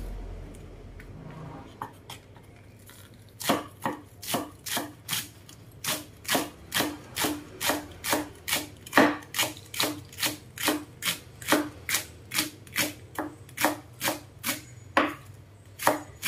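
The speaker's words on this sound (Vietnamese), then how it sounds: "Cái hành ba rô thì mình sẽ sắt nhỏ nha mọi người." A knife finely chops leeks for kimchi on a board: about twenty crisp, evenly spaced thuds in a steady rhythm, close and clear, with no talking over them.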